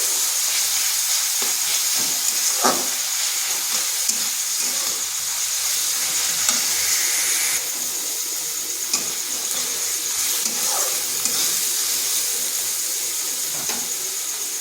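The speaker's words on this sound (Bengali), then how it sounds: "আদা পেঁয়াজটাকে ভেজে নিচ্ছি যাতে তার কাঁচা গন্ধটা চলে যায়" Ginger and onion fry in a pan with salt, giving a continuous close hiss and sizzle with scattered soft pops and crackles, no voices.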